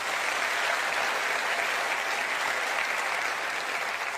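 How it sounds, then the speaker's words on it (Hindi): Loud, dense applause from a large audience at a sales gathering, continuous clapping that stays at an even level from start to finish without any talk. "एक जोरदार तालियां अपलाइनों के लिए होनी चाहिए।"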